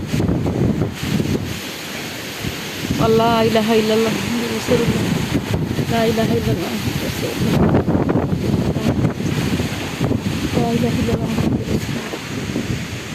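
A storm wind blows through a village in the Khulna region, roaring and gusting steadily as a loud, rushing wash, with a person chanting prayers over it.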